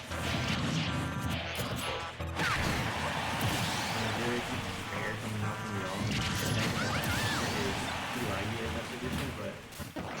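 Hard smash attack landing in a Super Smash Bros grand finals match between Peach and Mega Man, heard as a sharp impact amid dense game effects, music and continuous commentary.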